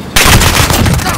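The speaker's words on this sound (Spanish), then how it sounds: "¡Están disparando!" Dense, loud automatic gunfire in the Call of Duty: Modern Warfare video game, a rapid burst of shots packed tightly together, close and continuous for just over a second.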